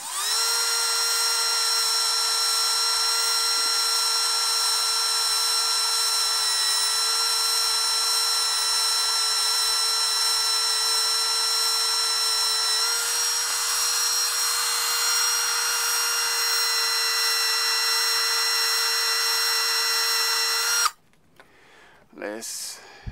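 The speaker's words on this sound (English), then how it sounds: "In this case, I'm using a cordless Dremel, and it works great." A cordless Dremel rotary tool whines at a steady high pitch as it works on a crypto miner's hashing-board heatsink. The loud, continuous drone runs without a break for about twenty seconds, then cuts off, leaving faint handling noise.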